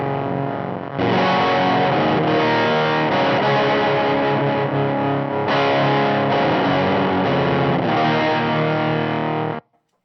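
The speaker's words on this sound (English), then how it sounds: "that's where you get some of those more like textural, kind of misbiased, broken, ripped speaker kinds of sounds." A guitar run through a fuzz pedal set for a broken, ripped-speaker texture gives a thick, buzzy, saturated wall of sound, loud and sustained for several seconds before cutting off abruptly.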